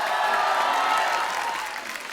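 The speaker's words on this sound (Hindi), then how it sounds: "पहले तो इनके लिए जोरदार तालियां बनती।" A comedy show's studio audience bursts into steady, dense applause with some cheering, loud and continuous before fading slightly at the end.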